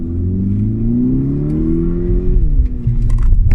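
Volkswagen Mk6 GTI with a DSG gearbox revs hard through its exhaust, a steady rising engine drone that drops off on a shift and then returns with rougher crackling pops, heard from inside the car.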